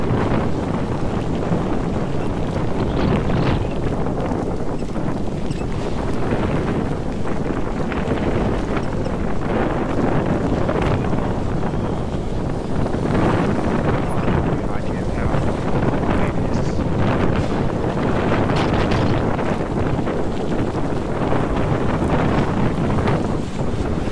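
Strong storm wind gusts in a marina in Croatia, roaring loudly and steadily against the microphone with surging buffets, boat and water noise beneath, and voices talking under the wind.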